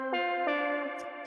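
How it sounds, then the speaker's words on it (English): A bright synth lead in a warm analog Boards of Canada style sustains a couple of notes that bloom into a long, washy spacey reverb tail, with faint hissy sweeps near the end. "I just want to have like that long spacey reverb"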